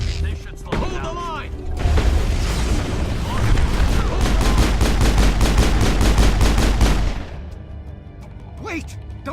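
Rapid gunfire in the video game Mass Effect, loud bursts of automatic shots crackling in quick succession over a low rumble, with voices talking before and after the firing.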